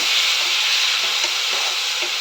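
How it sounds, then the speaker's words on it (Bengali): A paste of ground onion and chilli with salt and turmeric fries in a pan, producing a loud, continuous close-up sizzle with faint stirring scrapes and no voices. "আমার মশলাটা ভাজা শুরু হয়েছে"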